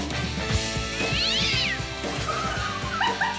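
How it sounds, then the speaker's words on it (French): A cat meows repeatedly and close, with rising and falling drawn-out cries over a steady rhythmic background of music with a beat. "Miaou."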